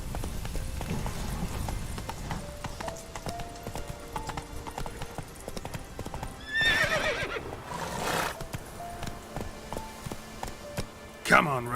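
Roach the horse in The Witcher 3 clip-clops steadily throughout at a gallop, with two loud whinnies breaking through midway and another near the end, over game music and occasional talk.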